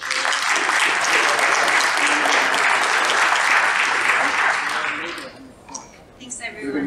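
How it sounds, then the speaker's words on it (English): Conference attendees applaud at a closing session, loud sustained clapping from a room of people that fades out after about five seconds, leaving quieter room noise and movement. "So we're going to give everyone a quick round of applause."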